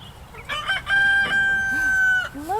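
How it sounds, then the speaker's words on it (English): A buff chicken in a farm coop calls out in a drawn-out, tonal crow-like cluck lasting about a second and a half, with shorter clucks around it, close and fairly loud against a low murmur of background noise. "There's a chicken in there."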